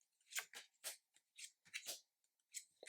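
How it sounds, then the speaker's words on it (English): A deck of tarot cards being shuffled by hand: a quick series of crisp, rustling bursts with short pauses between them, close up and otherwise quiet. "because it shuffles really well."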